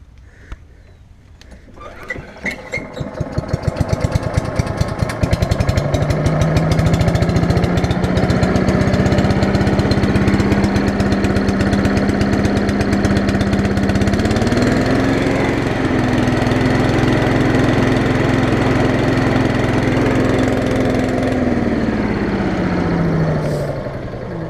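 A Craftsman 6.0 hp lawn mower engine pulls to life and then runs steadily and loudly up close, holding a strong droning pitch that rises slightly midway before settling back down.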